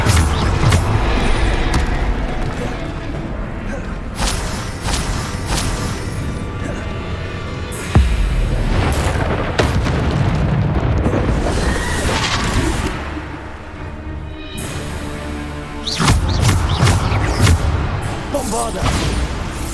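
Bombarda explosion spells in Hogwarts Legacy on PS5, with repeated booming blasts and crashing impacts layered over dense combat effects and music, several loud bursts through the passage.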